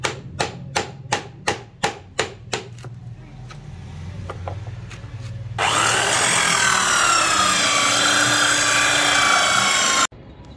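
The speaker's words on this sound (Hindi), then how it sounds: "ये ड्रिल मशीन है जिसकी मदद से हम सुराख कर रहे हैं।" An electric drill bores holes in plastic for goat kid feeding bottles on a bottle feeder rig: a string of short sharp knocks first, then a sustained loud high whine of the drill running for several seconds before cutting off.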